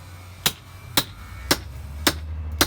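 Sledgehammer blows during work on a clogged main sewer line: five sharp, evenly spaced impacts about half a second apart over a low, steady background hum.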